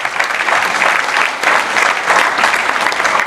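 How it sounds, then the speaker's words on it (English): Vigorous applause from a Diwali gala crowd recognizing donors, loud continuous clapping in a hall, pulsing slightly as it carries on throughout. "please give them a big round of applause"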